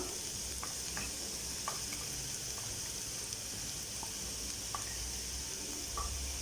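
Small Chinese potatoes stir-fried in a pan with ground coconut, giving a quiet, steady sizzle with occasional soft scraping taps from the spoon and no talking.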